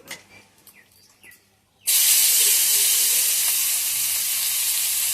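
Chopped onions hit hot oil with a sudden loud hiss that settles into a steady, close sizzle. Faint kitchen clatter comes just before.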